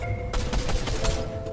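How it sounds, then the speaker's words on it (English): Rapid gunfire from a glitched gun in Fortnite, a quick run of about eight loud shots in an even rhythm, close and alone with no talk. "Now I can shoot, but it doesn't actually use your ammo"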